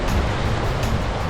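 A lahar river near Mt. Pinatubo rushes in a broad, noisy wash with gusty surges, loud and close, no voices over it.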